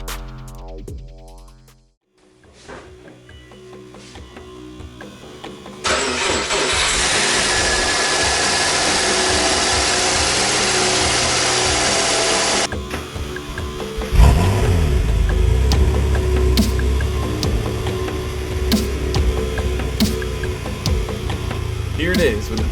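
A swapped Subaru EG33 flat-six engine is started for the first time, with loud mechanical noise that settles into a running engine with low rumbling and revving toward the end.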